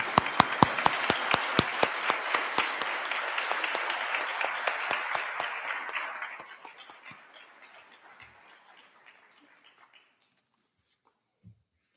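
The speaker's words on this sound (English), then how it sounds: "Let's give this group a big round of applause" A crowd claps for graduates of a corrections training class, with crisp, fast applause that holds steady and then thins out to a few last claps before silence.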